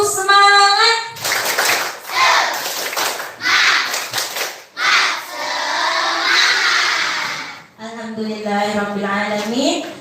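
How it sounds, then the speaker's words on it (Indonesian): A primary school class in an Indonesian classroom claps out the 'tepuk semangat' chant, with bursts of rhythmic group clapping and shouted children's voices alternating with a teacher's voice. "Ayo kita coba sama-sama ya. Tepuk semangat."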